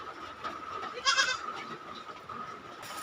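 One short goat bleat rises briefly over a steady, faint background hum, heard from a little distance.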